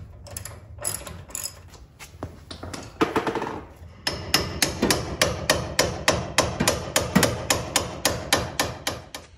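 Hammer striking a pickle fork to separate a ball joint on an OBS Chevy truck, with a few scattered early hits, then a loud, steady series of sharp metallic blows at a regular pace, close by and no talking.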